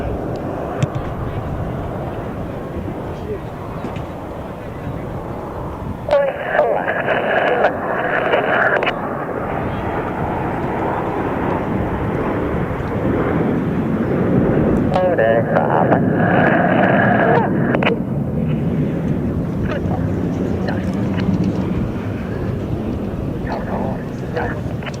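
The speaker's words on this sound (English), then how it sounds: "the aircraft slow down to approximately 150 kilometers an hour before then accelerating back to 600 kilometers an hour" Military jets in formation at NATO Days and Czech Air Force Days, slowing and then accelerating, produce a loud continuous engine roar that swells and surges, heard under ongoing commentary.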